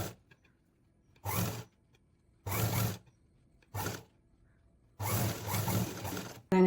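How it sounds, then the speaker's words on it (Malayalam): A domestic sewing machine runs in five separate bursts while stitching a cut cross piece around the neckline of a front-open pleated nighty, each stretch a fast mechanical whir with short quiet pauses between and no speech over it. "അപ്പം അത് ഈ നെക്കിൻ്റെ മേലെ ഇങ്ങനെ വെച്ച് ചുറ്റും ഇങ്ങനെ തയ്ച്ച് പിടിപ്പിക്കാം."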